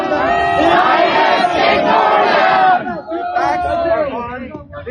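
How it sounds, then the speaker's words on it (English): Crowd of protesters at a campus protest, a loud mass of many raised voices booing and jeering together, with a sustained roar that briefly dips and then swells again. "the actual protesters are booing"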